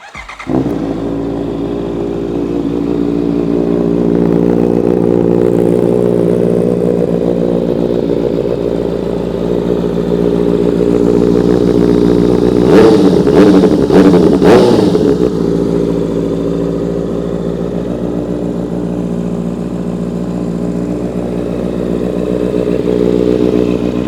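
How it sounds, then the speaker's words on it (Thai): A 2019 Honda CB650R motorcycle engine starts and settles into a loud, steady idle close by, with a brief burst of revving in the middle before returning to idle. "มาสตาร์ทเครื่องกัน"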